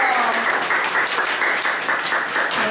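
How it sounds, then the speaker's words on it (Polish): Applause at a kindergarten initiation ceremony: a room full of people clapping steadily and loudly throughout, a dense continuous patter with no pauses. "I I jeszcze raz dla Was brawa, brawo!"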